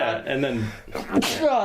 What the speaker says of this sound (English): that was a sneeze.